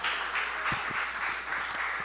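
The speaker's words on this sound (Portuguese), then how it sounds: "Aplauda o Senhor, igreja." A church congregation applauds in a steady, continuous wash of clapping, fairly quiet and diffuse, with a few sharper low thumps mixed in.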